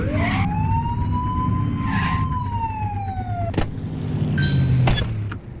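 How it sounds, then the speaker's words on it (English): Police car siren in the video game The Precinct, a loud sweeping wail rising and falling over steady engine hum, with a couple of sharp clicks and a brief electronic chirp near the end. "Remember to turn your siren on."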